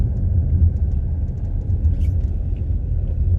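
Low, steady road rumble heard from inside a Jeep Compass with a manual gearbox while driving, a muted continuous hum with no wind roar and no talking.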